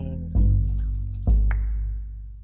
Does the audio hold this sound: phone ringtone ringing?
no